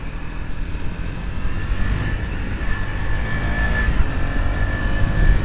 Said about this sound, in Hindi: ओहो ओ फुल पावर, बूम बूम हो रही है बाकी गाड़ी